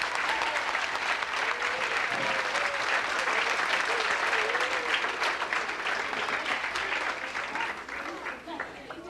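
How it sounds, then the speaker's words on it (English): An audience at a 1988 school sports banquet breaks into sustained applause, many hands clapping loudly and steadily before tapering off, with some talk underneath. "Please give these guys an extra round of applause because they got killed last week."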